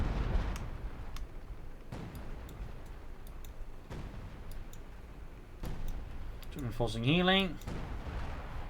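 Artillery barrage in the video game Company of Heroes 2: repeated booming impacts land every couple of seconds at moderate distance over a rumbling battlefield bed, with a brief voice line in the game.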